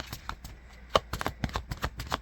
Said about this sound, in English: We're going to do one more shuffle here.